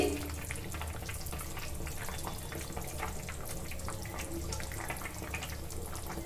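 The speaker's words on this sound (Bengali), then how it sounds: "এই যে ভেজে রাখা মাছগুলো কিন্তু সুন্দর করে তরকারির মধ্যে আমি দিয়ে দিচ্ছি" Fried fish pieces go into a simmering fish curry with cauliflower and potato, giving a continuous close bubbling, sizzling hiss with soft splashy stirring and no talk.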